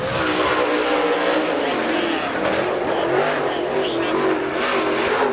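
A super late model race car roars loudly off the corner at a dirt speedway, engine droning steadily with tire noise, an announcer faintly under the din.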